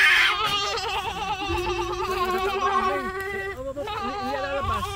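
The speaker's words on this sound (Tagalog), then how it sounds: "Yan ang mga kapatid ng kambing." Several goats bleat loudly and almost without pause in a goat pen, their wavering, overlapping cries near and persistent over five seconds.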